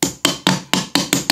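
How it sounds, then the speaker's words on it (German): A hammer taps a pin into an AR-15 trigger assembly, six evenly spaced sharp metallic blows in quick succession, close and loud with brief ringing decay after each. "Dann jetzt auch wieder einfach bis am Ende vom Hammer reinhämmern, bevor er da an den Receiver kommt."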